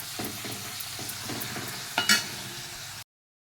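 Papads with sesame, cumin and green chili frying in hot oil, a continuous close sizzle with soft stirring knocks and a louder burst of bubbling near the end before it cuts off, no talk.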